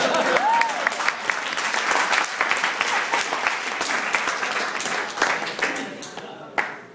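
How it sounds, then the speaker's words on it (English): Wedding reception guests break into applause during the speeches, a dense crowd clapping that swells early and then thins toward the end, with a few voices mixed in. "I applaud you."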